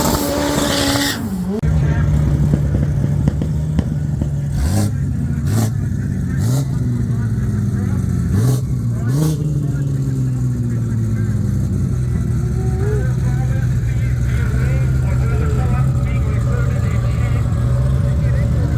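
A Turbo Smart Ford Raptor roars and spins its tires at Tarlton International Raceway, with a sustained high-revving engine drone, squealing wheel spin and rising and falling revs, while a voice talks over it.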